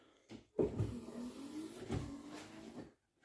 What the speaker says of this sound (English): we have working wipers